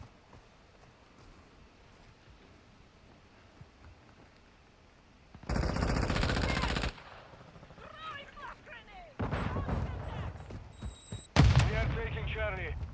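A heavy LMG fires in a Call of Duty Modern Warfare II match, with two loud bursts of rapid gunfire rising out of quiet background ambience and someone talking between and over them.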